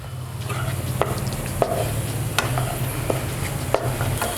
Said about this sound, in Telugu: కాసేపు ఒక 1 to 2 మినిట్స్ వరకు ఇలా వేగనిద్దాం